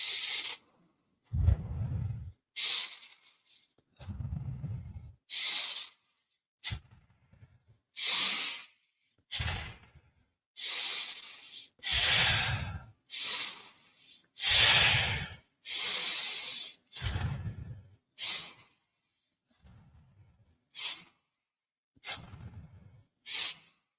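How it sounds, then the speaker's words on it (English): Deep, rapid breathing during a guided meditation exercise: a long series of forceful breaths, about one every second or two, each a close breathy hiss with a low rush, separated by brief quiet gaps. "exhaling and deep rapid breathing"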